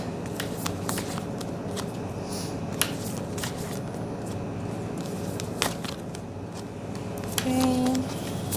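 Tarot cards are shuffled and pulled from a deck, a steady soft rustle and riffle with scattered light snaps of card edges, close and continuous with a brief brighter tone near the end.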